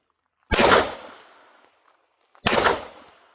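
Two sharp shots from an Aksa Crosfire M-14 .36 caliber air rifle, each a loud crack with a decaying tail, spaced about two seconds apart with silence between.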